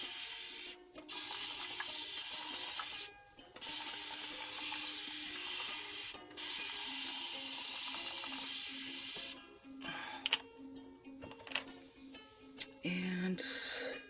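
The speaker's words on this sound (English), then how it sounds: "spray this around the perimeter" Hair spray bottle misted around the hairline in quick bursts, a steady close hiss broken by short pauses, with soft handling noises between sprays and no talking over it.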